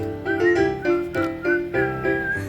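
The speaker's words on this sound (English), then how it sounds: "start right in to whistle loud and long" Whistled tune performed on stage in a high school adaptation of Snow White, a series of clear melodic phrases rising and falling in a steady rhythm, fairly loud and close, with no talking.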